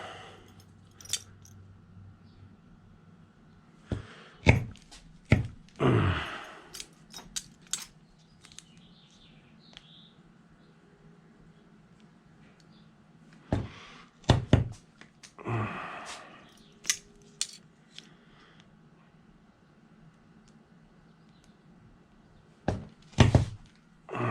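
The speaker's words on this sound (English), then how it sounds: "Go ahead and punch 4 holes." Leather straps having holes punched for a latex Halloween mask, with several sharp thunks and clacks arriving in short clusters, and quiet stretches between them.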